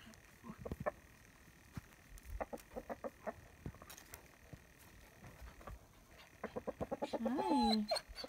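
Rooster in a mountain backyard flock, a burst of rhythmic clucking that builds into a loud rising and falling crow near the end, with other chickens clucking faintly in the background.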